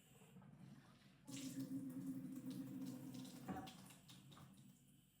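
A kitchen faucet runs steadily with a bright, hissing gush of water splashing into a container, starting abruptly and cutting off after a couple of seconds.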